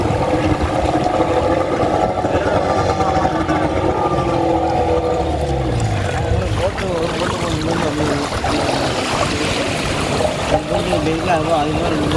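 A rescue boat moves through floodwater at a flooded old bus stand where buses float, its engine and splashing water steady and close, with people talking over it throughout.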